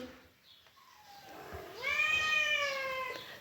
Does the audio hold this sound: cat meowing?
yes